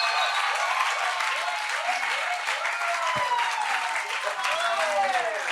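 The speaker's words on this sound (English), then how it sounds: "So do come up, round of applause." Applause rolls steadily through a talk-show style audience, dense and continuous from start to end, with a host's voice threading over the clapping.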